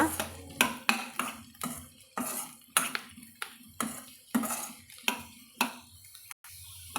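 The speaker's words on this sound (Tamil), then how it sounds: "நம்ம அந்த வெட்டி வச்சுக்கிற காளானை வந்து இது கூட சேர்த்துக்கலாங்க சேர்த்துட்டு ஒரு வதக்கு வதக்கி விட்டுக்கலாங்க" Chopped mushrooms for a mushroom gravy are sautéed in an oiled pan, with a spoon striking and scraping the metal in a brisk, regular rhythm of about a dozen close clinks over a low sizzle.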